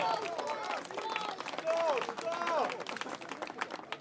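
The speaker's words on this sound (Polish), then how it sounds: "Ale brawa! Brawa!" Spectators applaud after a knight's duel at a Grunwald medieval tournament, scattered clapping from a crowd mixed with voices calling out and general murmur, moderately distant.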